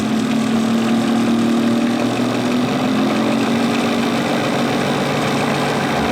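An engine on a test run speeds up toward 400 RPM, giving a steady, continuous mechanical drone with a rising hum throughout, loud and alone.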